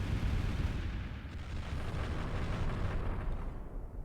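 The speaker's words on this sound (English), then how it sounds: "Shall we do an EMP barrage?" Barrage of EMP explosions in the Final Theory video game, a continuous rumbling roar of overlapping blasts and booms that stays loud and dense throughout.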